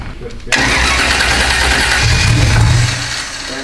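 A no-prep drag car engine starts off an M18 battery: after a brief pause the starter kicks in and the engine catches with a sudden loud roar, then settles into a heavy, rumbling idle up close.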